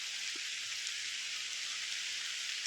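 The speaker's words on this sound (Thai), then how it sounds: "ฝนก็ตกอีก" Steady rain falls through a tall durian orchard, a dense, even hiss of drops on leaves continuing without pause.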